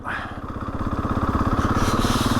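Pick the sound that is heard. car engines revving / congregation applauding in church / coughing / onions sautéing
car engines revving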